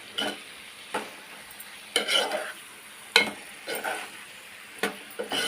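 Eggplant with coriander stirred in a pan, a soft sizzle underneath with about half a dozen distinct scraping and knocking strokes of a utensil at irregular intervals.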